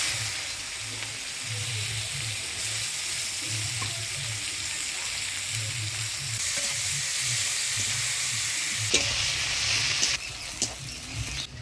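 Chopped onion sizzling in hot oil with dried red chilli, whole cumin and bay leaf, a steady loud frying hiss with pulsing crackle throughout, a few sharper clinks of stirring near the end.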